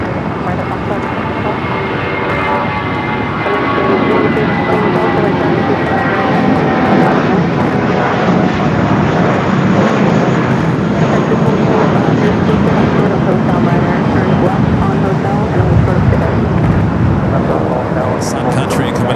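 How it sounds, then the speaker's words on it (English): A Sun Country Boeing 737-800 airliner arriving at Los Angeles airport, its jet engine roar a loud, steady broadband rumble that holds throughout with a faint speaking voice underneath. "Sun Country coming up from Minneapolis, 737-800"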